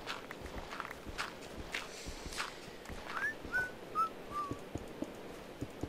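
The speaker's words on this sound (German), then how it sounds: "Ah, ich darf nicht pfeifen." A person whistles a short tune of several rising and falling notes while walking through a Minecraft game world, with steady footstep crunches underneath; the whistle is fairly close and moderately loud.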